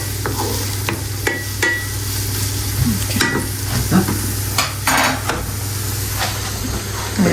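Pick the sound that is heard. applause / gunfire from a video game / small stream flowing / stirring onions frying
stirring onions frying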